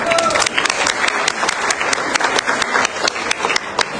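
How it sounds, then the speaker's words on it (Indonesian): An audience at a political rally breaks into dense, steady applause, many hands clapping loudly for several seconds. "Tepukkan."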